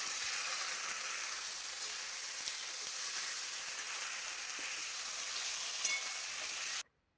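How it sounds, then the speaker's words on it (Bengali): Spice paste frying in hot oil in a pan while making a vegetarian giant taro curry: a dense, even sizzle hissing steadily up close, with a few faint stirring clicks, holding constant before cutting off abruptly at the end. "মশলাটা দিয়েও আমরা ভালো করে ভেজে নেব"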